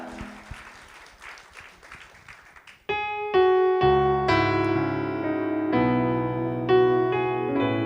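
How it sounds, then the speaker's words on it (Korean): Applause rises and falls during a church prayer service for about three seconds, a scattered crowd clapping, then cuts off as sustained keyboard chords take over. "우리 주님 앞에 영광의 박수 올려드리겠습니다"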